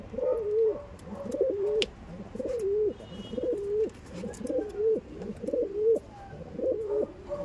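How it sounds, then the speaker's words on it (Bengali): Aggressive tournament pigeons coo in their room, a close, rhythmic series of repeated throaty coos, about one per second, with faint background rustles. "দেখেছেন কতটা অ্যাগ্রেসিভ আছে পায়রাগুলো"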